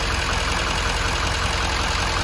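A 6.6L Duramax diesel V8 in a 2015 Chevy Silverado 2500HD idles steadily just after starting, a dense, even rumble with a faint high whine running throughout, with no talking.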